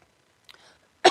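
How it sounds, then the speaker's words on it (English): A single short, sharp tickly cough bursts out close and loud at the very end, after a moment of faint breathy sounds. "when a weird little tickly cough comes"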